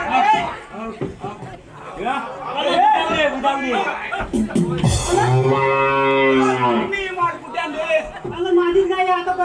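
A performer in a Marathi folk comedy stage show imitates a cow's moo with a long, wavering, drawn-out call, surrounded by lively talk and crowd chatter.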